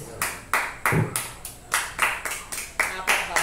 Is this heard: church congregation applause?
yes